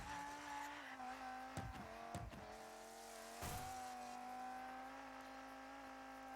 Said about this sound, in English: Cars are catching up to me.